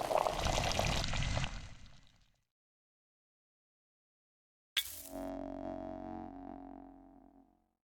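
Water splashes out in a pour to brew a herbal tincture in the video game Pathologic 2, fading to silence, then a sudden bubbling, ringing brew sound rises and slowly dies away.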